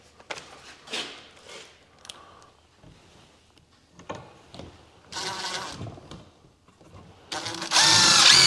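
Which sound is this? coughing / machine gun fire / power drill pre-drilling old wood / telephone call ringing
power drill pre-drilling old wood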